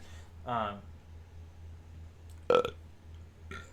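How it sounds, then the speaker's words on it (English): A single low, throaty human burp erupts near the start, followed by a few short, faint mouth and movement noises in an otherwise quiet indoor room. "I got a burp"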